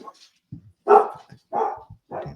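A dog barks three times in quick succession, short loud woofs spaced about half a second apart, heard up close and alone.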